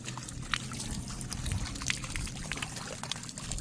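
Water drains steadily out of a drinking-water tank being cleaned, with an ongoing splashy trickle and gurgle at moderate distance and no talk.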